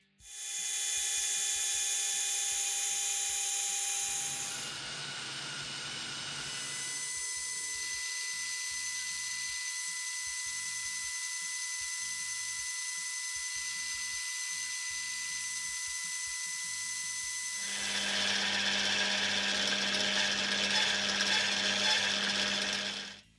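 A metal lathe taking light passes on a taper, a long continuous whine and hum with a steady pitch, shifting in tone partway through as the cut changes, close and with no talking.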